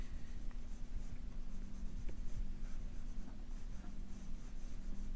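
Graphite pencil shading with the side of the lead while drawing hair and beard texture, a continuous close scratchy rubbing of strokes that keeps going without pause, no voices.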